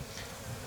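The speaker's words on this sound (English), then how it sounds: "There's lots of bees." Bees swarm around an open beehive during spring hive cleaning, giving a continuous, faint, dense buzzing drone with no voices.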